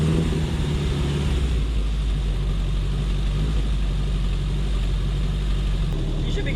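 A 1969 Opel GT engine running with a new full performance exhaust and custom tailpipe, a loud, steady, deep rumbling idle close by with no breaks.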